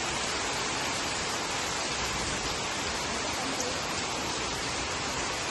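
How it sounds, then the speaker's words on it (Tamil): Heavy rain pours down steadily in a dense, loud, unbroken hiss that fills the whole clip, close by and with no gaps or other sounds. "நல்ல மழை"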